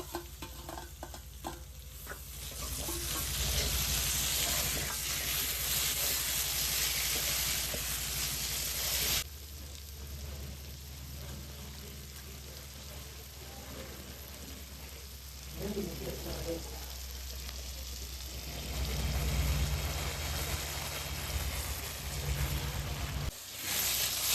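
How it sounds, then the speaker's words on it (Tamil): Onions and tomatoes sautéing in a pan for North Chennai style fish curry, a steady hiss of sizzling that swells and drops over time, with occasional stirring scrapes and low background noise. "நல்லா வதங்கிட்டு இருக்கு."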